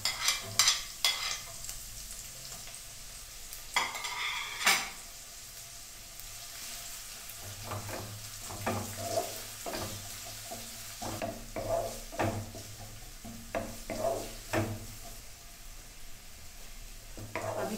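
Onion and carrot fry in a pan for thukpa, a chicken noodle soup, with a steady sizzle broken by repeated scraping spoon strokes, some in quick bursts and others spaced out, close and moderately loud with no talking.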